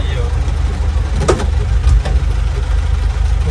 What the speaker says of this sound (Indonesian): Lu suaranya kok kayak mesinnya halus nih